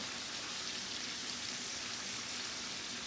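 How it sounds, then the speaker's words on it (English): Onions sizzle steadily in a hot pan after lamb chops were seared, giving a dense, even hiss like light rain that holds without pause throughout. "I'm going to put my onions in there"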